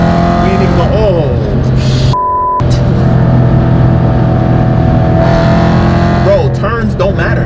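A V8 BMW M3 engine roars steadily under load while driving, with pitch climbing and dropping through revs and a brief break near a shift, loud and close beneath a voice talking over it.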